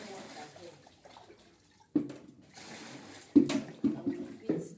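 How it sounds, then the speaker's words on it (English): Water poured into a basin to wash shredded cassava abacha, heard as several distinct splashes and sloshes after quieter stretches of handling. "I will add in water here."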